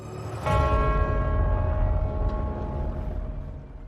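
A great church bell of St. Paul's in London is struck once, loud and near, and its rich tone rings on in a long fading hum. A fainter second stroke sounds partway through the decay.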